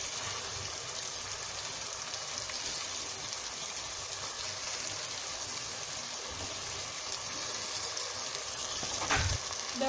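Hilsa fish frying in mustard masala in a pan, a faint continuous crackling sizzle, even and unbroken for the whole stretch, with no voices.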